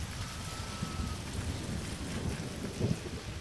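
Heavy August rain pours in a steady hiss during a summer thunderstorm on farmland, with low thunder rumbling underneath throughout.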